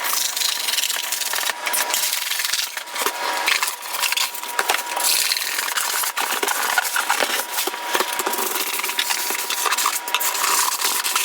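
A large Bowie knife rasps and saws steadily through foam stuck to wood, a continuous scratchy scraping with small cracks and snaps, close and fairly loud and going on without a break, no talking.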